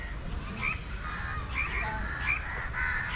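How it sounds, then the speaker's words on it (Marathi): Several harsh crow caws repeat every second or so over a steady outdoor background hum. "पक्ष्यांचा आवाज बघा"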